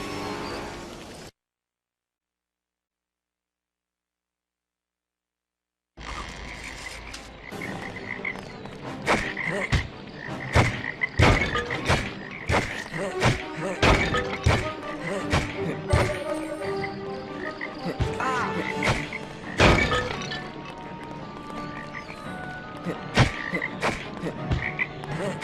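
Toads croak in the swampy setting of the PS2 game Lemony Snicket's A Series of Unfortunate Events, a busy run of sharp, overlapping croaks and thuds after a brief silent gap, loud and close.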